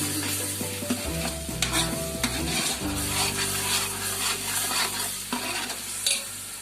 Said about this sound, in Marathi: चांगलं जरा आपण परतून घ्यायचं.